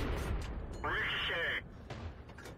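Tank cannon round ricocheting off a well-angled Panzer II in World of Tanks, a short bright metallic ping ringing for under a second amid game noise, with a voice talking around it.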